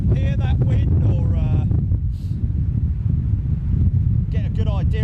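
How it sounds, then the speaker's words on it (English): Strong, gusty wind of around 40 mph roars and buffets the microphone in a continuous low rumble, with excited voices talking over it at the start and end. "I don't know if you can hear that wind"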